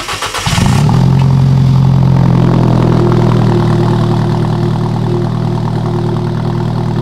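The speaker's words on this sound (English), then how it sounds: "George, this is a cold start on my 2015 Alfa Romeo 4C." A 2015 Alfa Romeo 4C cold starts with a brief cranking burst, then catches and settles into a loud, steady, high idle that holds close by with no voices.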